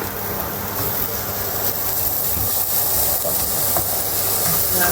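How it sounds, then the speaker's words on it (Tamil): Ginger garlic paste sautés in a pan for turkey biryani, producing a steady, fairly loud broadband hiss and sizzle that runs without a break throughout. "வதக்கி போட்டு அதோட இஞ்சி பூண்டு பேஸ்ட்டையும் போடுவோம்"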